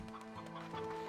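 Chickens clucking in the video game Slime Rancher 2, a steady soft run of close clucks over constant game ambience with tonal hum, no talk.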